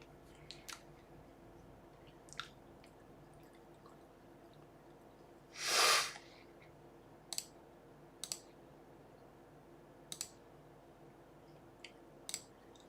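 A person sneezes once, a loud, short burst of noise near the middle, between faint scattered clicks in a quiet room while a game is being played.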